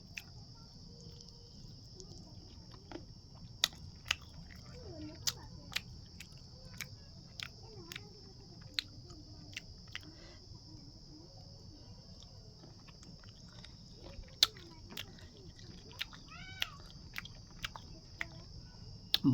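Close-up chewing of a broiler chicken leg curry, with irregular soft bites, crunches and wet mouth sounds over a steady high-pitched background whine.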